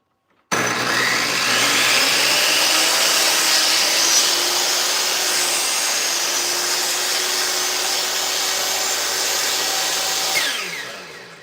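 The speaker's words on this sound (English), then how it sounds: "Now I do need to run it and cut the table saw sled first." Table saw running and cutting through a wooden sled in a workshop: a loud, sustained motor whine holds steady for about ten seconds, then spins down and fades.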